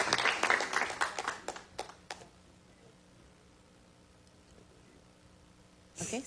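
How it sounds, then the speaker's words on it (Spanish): Audience applause for a speaker at a Spanish-language gathering, a short burst of clapping that quickly thins to a few scattered claps and quiet room tone, then a brief loud rustle near the end. "Así se merece un aplauso"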